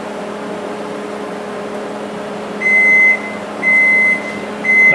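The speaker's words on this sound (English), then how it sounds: "That's my oven" A kitchen oven preheating to 350 beeps three times in long, steady tones over a constant background hum of the oven fan.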